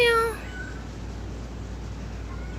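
A mother cat that has just given birth, outdoors under a date palm in Kuwait, lets out one short meow at the start before steady low background noise takes over.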